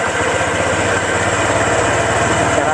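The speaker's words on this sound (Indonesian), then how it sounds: "Nah, ini untuk suara mesinnya" Close, continuous idle of a Honda Vario 125 scooter engine, a steady low chugging with a light mechanical whine, no one speaking.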